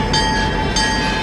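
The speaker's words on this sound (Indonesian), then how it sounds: "perjalanan diteruskan dengan kereta api ke Yogyakarta" Train rolling along the railway on the way to Yogyakarta, a loud, dense rumble with steady tonal whines and two brief rushes of hiss, heard up close and continuous.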